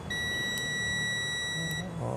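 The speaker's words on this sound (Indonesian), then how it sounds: "Tang ampere saya kasih di buzzer" A clamp meter's continuity buzzer, used while testing a water dispenser for a broken connection, gives a continuous high-pitched electronic beep that holds steady for about two seconds over faint background hum.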